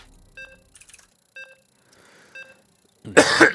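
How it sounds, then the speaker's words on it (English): A game streamer gives a sudden burst of close, loud coughing near the end, after a stretch of quiet broken by a few short electronic beeps. "Coughing in your guys' ears"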